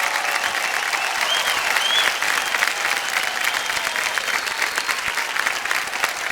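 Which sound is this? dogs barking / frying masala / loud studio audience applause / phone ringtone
loud studio audience applause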